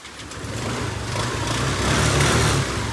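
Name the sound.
repaired motorcycle engine running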